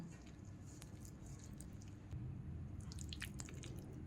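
Chicken drumsticks are worked by hand into a wet marinade of egg, cornflour and flour, giving soft, close squelching and dripping sounds that grow busier in the second half, with no talking.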